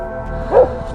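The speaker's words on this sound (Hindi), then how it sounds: "इसने देखा कि कुत्ता बहुत जोर जोर से भौंक रहा है।" A dog gives a single loud, close bark over a steady low hum, the short sharp burst standing out clearly for a moment before fading.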